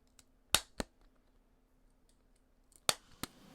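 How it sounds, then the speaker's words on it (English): Crisp mechanical clicks and snaps in two clusters as a hole punch punches a card, pressed down and released, close and fairly loud. "It is me punching a punch card"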